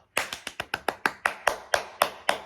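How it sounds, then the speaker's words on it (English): A single person's hands clap about a dozen times in a steady, fairly quick rhythm, each clap crisp and close with no talking over it. "clap, clap, clap"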